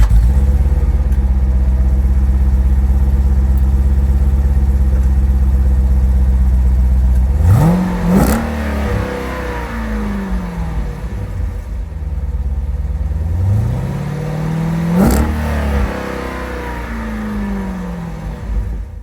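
A 2018 Jeep SRT with its original factory exhaust idles with a deep, steady rumble, then two sharp revs climb and fall, around the eighth and fifteenth seconds, each followed by a settling burble. Close and loud, with no talking.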